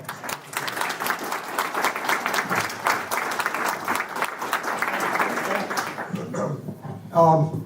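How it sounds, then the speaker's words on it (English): An audience gives a sustained round of applause for Craig at an evening astronomy talk, dense clapping filling the room for about six seconds before fading, followed by a brief burst of voices. "let's give Craig one more round of applause"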